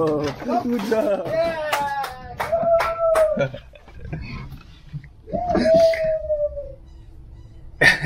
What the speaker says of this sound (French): C'est impressionnant parce que les chiens quand ils vous jappent à l'oreille, faites pas les malins